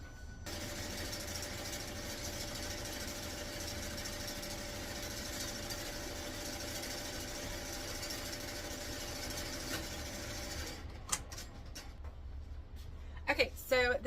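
An embroidery machine stitching out a purple design for a small-business order runs with a steady, dense mechanical whir for about eleven seconds, then stops, leaving a few scattered clicks and handling noises.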